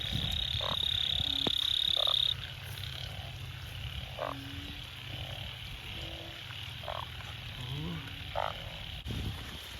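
Frogs croaking in water on a night of the year's first rain, repeated deep calls spaced a second or two apart over a steady insect chorus, moderately distant.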